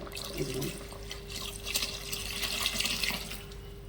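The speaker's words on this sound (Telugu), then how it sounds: "ఇప్పుడు ఇందులో చింతపండు పులుసు పోసేసుకుంటాను" Tamarind extract poured into a pot of drumstick sambar, a continuous close liquid pour with splashing and trickling, fairly quiet with a faint steady hum beneath.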